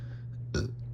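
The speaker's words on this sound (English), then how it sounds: "Sorry about me burping once again." A man lets out a single short, close burp that stands out above a low steady hum.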